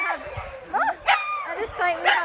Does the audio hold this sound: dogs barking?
yes